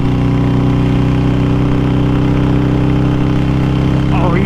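A motorcycle or nearby vehicle engine drones loudly and steadily close by on the road, a constant low throbbing hum with wind buffeting, and a voice rises briefly near the end.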